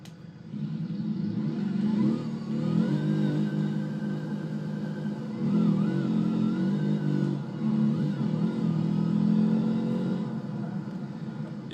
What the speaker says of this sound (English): And a broken engine sound as well.